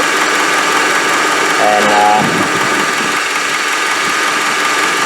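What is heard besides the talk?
car engine idling with power steering fluid bubbles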